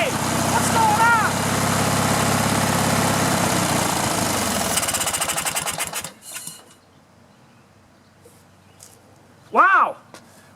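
A riding lawn mower engine runs roughly on choke, a loud chugging drone that sputters and dies after about six seconds, leaving near silence broken by a brief voice.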